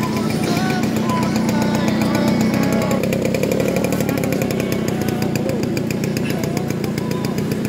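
A Yamaha V80 motorcycle engine runs off-road with a loud, steady, raspy buzz. The buzz stays close and continuous for the whole stretch.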